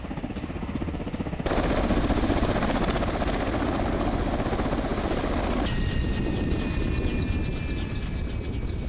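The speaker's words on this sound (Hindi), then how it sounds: "यूक्रेन के Mi-8 हेलीकॉप्टर से यूक्रेन की गश्त, हैवी मशीन गन के साथ ओडेसा की सुरक्षा" A Ukrainian Mi-8 helicopter armed with a heavy machine gun patrols over Odesa, its rotor chop loud and steady throughout, thickening into a close, dense roar before easing slightly with a whining turbine tone on top.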